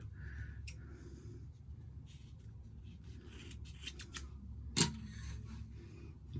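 Sharp snip of scissors cutting through strands of yarn for braids, a single crisp cut standing out against faint quiet handling and breathing in a still room.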